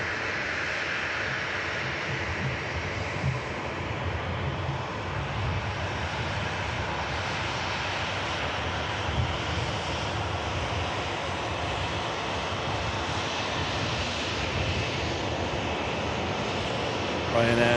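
A Ryanair Boeing 737 arriving from Belfast International comes in to land at Manchester Airport, its engines a steady, broad roar that holds at a constant level for the whole stretch and stays fairly close, with no talk over it.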